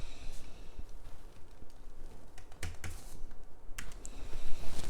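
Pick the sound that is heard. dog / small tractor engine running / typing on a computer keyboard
typing on a computer keyboard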